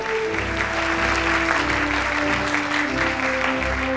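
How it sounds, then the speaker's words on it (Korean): Audience applause at a Korean army soldiers' speech contest award, a steady wash of clapping over a sustained music bed for the full stretch. "박수 주세요."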